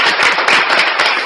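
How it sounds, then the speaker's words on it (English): An audience claps loudly and continuously at a comedy watch-party show, a dense wash of many hands with no pauses. "Y'all give a round of applause to Stoner"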